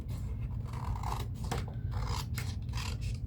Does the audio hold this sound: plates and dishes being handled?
no